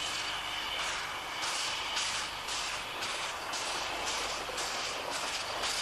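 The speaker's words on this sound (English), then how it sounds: "Rolling on rails laid down more than 100 years ago, this historic steam train recaptures an era of adventure and excitement" Historic steam train rolling through the Flinders Ranges on century-old rails, a steady distant rumble with rhythmic hissing chuffs pulsing roughly twice a second, moderately faint and continuous.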